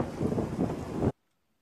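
Cold wind gusting across the microphone at Harichaur Bazaar, a loud, close rumbling buffet that cuts off abruptly into silence.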